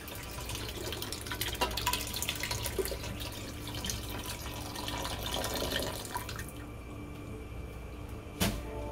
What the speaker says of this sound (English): I'm going to add the rest of the water that I made the chicken in there.